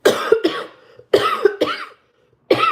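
Harsh coughing fits at close range, three bursts of two or three coughs each separated by brief silences.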